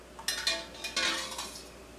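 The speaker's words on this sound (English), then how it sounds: "So you take the egg and you put it in the ice water," A boiled egg set down into a bowl of ice water with a few light clinks against the bowl, brief and close, with no talking.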